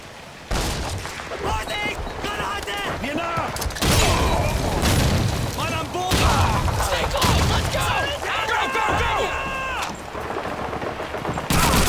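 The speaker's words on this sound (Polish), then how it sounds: "On my command, kick open the door and frag those crabs." Door kicked open and grenades thrown in Call of Duty 2, followed by loud, sustained gunfire and explosions throughout, with voices shouting in the mix.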